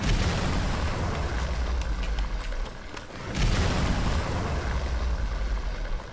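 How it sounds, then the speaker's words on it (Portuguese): Gunfire in the mobile video game Modern Combat 5: continuous rumbling, booming shots with a brief dip partway, then a renewed burst of dense, loud firing over a steady noisy background. "os caras metendo bala aqui"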